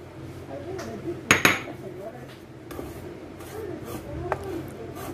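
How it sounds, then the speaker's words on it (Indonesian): Metal clinks and scrapes of a utensil against a frying pan while dry-roasting milk powder over low heat, with a couple of sharper knocks, close up and otherwise quiet. "Siapkan penggorengan atau teflon, lalu sangrai susu bubuk."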